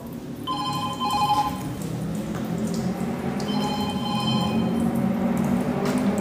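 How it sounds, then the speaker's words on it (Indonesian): A faint telephone rings in a haunted laboratory, two short bursts of electronic ringing heard at a distance over a steady low hum of room noise. "Ada suara telepon, kalian dengar nggak sih?"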